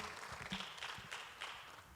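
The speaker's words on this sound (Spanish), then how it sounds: "Dele un aplauso" A congregation applauds in a church, a brief burst of scattered clapping that sounds fairly faint and distant.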